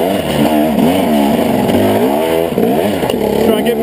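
Motorcycle engine pulling hard in second gear along a fire road on a trail lap at Hamsterley, loud and close with rising and falling revs throughout.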